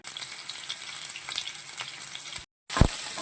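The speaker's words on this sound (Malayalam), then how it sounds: "നമുക്ക് ഈ ചെറുള്ളി എടുത്ത് ഒന്ന് വഴറ്റിയെടുക്കാം" Shallots sauté in hot oil with a bright, even crackling hiss and a few soft stirring scrapes, briefly cut to silence before the sizzle resumes along with a dull knock.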